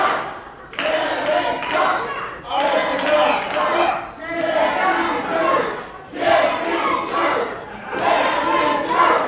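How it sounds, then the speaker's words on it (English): A wrestling event crowd chants and cheers in loud, rhythmic surges, rising and falling in repeated waves roughly every two seconds, with shouts and a few sharp claps or thuds mixed in. "Listen to that crowd."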